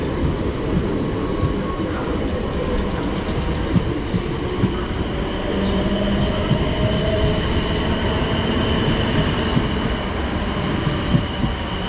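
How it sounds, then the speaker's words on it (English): South Western Railway 10:14 service to Hampton Court departing on the Waterloo–Chessington South line, with a steady rumble of wheels on track, faint clickety-clack and occasional squeals, heard close and continuous with no talking. "departing out now, it's going to be the 10:14 South Western Railway service to Hampton Court"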